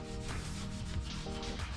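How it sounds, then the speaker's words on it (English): A scuff pad rubs back and forth along the edge of a 1981 Monte Carlo body panel, a few scratchy abrasive strokes close up with no talking. "just gonna run around this edge with the scuff pad"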